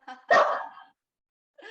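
A pet dog indoors lets out a short yip followed by a single loud, close bark, then silence before another brief bark begins.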